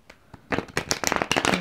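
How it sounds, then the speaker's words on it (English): Tarot cards being shuffled, a quick close-up riffle of papery flicks and slaps building in loudness over about a second, no voices. "One more shuffle."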